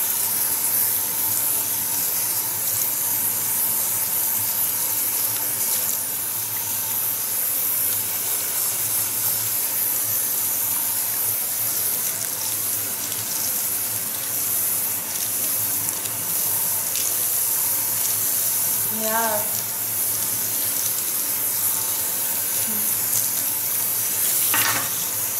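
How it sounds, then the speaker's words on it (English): Continuous running water rinsing hair color out of long hair at a salon basin, a steady close hiss and splash throughout with faint brief clinks, no talking. "After 30 minutes, we rinse out the color out of the hair."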